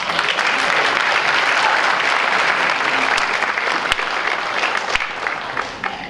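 A graduation ceremony audience applauds steadily, a thick continuous roar of clapping with a couple of sharper slaps standing out before it eases slightly at the end.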